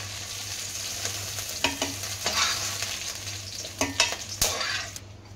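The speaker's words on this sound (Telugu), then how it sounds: "సో ఆయిల్ హీట్ కాగానే మనం నెక్స్ట్ అయితే పుదీనా వేసుకోవాలి" Mint leaves fry in hot oil in a kadai for chutney, a continuous sizzle with several scraping stirs and clinks of a spoon against the pan over a low steady hum.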